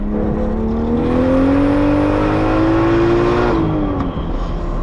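A built turbocharged BMW E36 pulls hard through third gear, its engine note rising steadily and loudly for several seconds before easing off near the end, heard from inside the car without talk.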